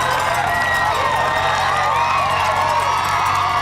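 Boston Marathon spectators in 2014 cheer and shout along the course in a dense, steady roar of crowd noise that holds loud and unbroken throughout.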